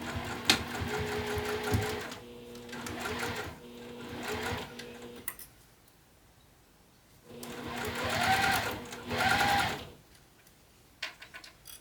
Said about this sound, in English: While I'm sewing, I'm just making sure I'm keeping everything lined up.